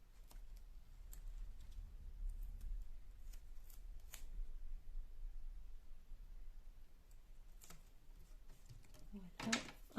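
Scissors snip through paper for a greeting card, crisp short cuts scattered through a quiet room, with a soft voice speaking in French between them.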